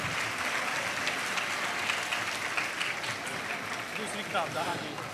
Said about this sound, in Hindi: जोरदार तालियां पहली किताब की रूनुमाई पर।